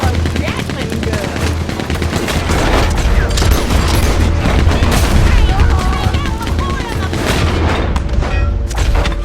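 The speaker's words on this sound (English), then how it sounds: "They brought a Gatling gun." Gatling gun fire in Red Dead Redemption 2: loud, sustained rapid-fire bursts of gunshots mixed with booms and other gunfire, continuous and dense across the whole stretch.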